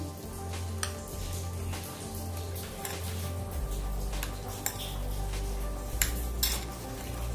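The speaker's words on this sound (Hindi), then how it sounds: "मलाई फ्रेश मलाई लें बिल्कुल ताज़ी इसको अच्छे से मिक्स कर लें पहले" Fresh cream (malai) being stirred and mixed in a bowl for bread malai toast, with steady scraping and clinking of a spoon against the dish over a low kitchen hum, with no talking.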